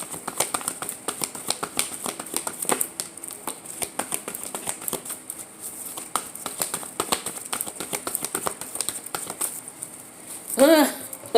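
Tarot cards are shuffled by hand, a run of quick papery riffles and taps in irregular bursts, close and fairly soft, with a person talking over parts of it.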